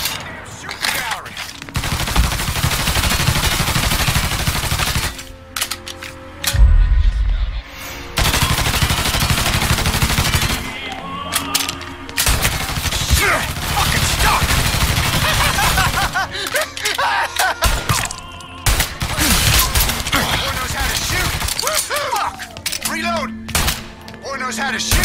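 Gunfire from the Mafia III video game crackles in repeated loud bursts of automatic fire and single shots, broken by brief lulls, with voices talking and shouting in between.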